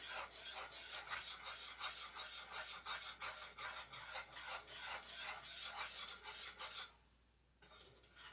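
Whisk stirring thickening turkey pot pie filling as cornstarch is added, a rhythmic rasping scrape against the pot repeated steadily at close range, stopping briefly near the end.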